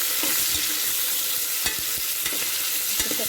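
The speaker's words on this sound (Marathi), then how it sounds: "तेल गरम असल्यामुळे टोमॅटो शिजायला अजिबात वेळ लागायचा नाही, लवकर शिजतो." Tomatoes fry in hot oil, a dense, loud, steady sizzling hiss with a few soft knocks and scrapes of a utensil stirring them, close up and with no talking.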